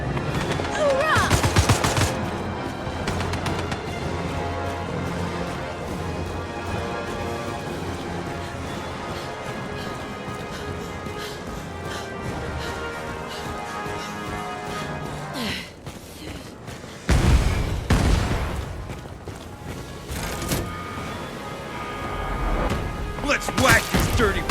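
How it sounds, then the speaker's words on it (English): Gunfire keeps going as bugs are shot in the video game Starship Troopers: Ultimate Bug War, with dense rapid bursts and heavy impacts and a louder crash of shots near the end. "Let's whack these dirty bugs. I'm reloading. Firing now!"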